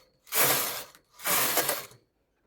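Knitting machine carriage pushed across the needle bed to knit a row of a lace pattern: two loud, broad rasping sweeps of about three-quarters of a second each, close up, with a short pause between and no talking.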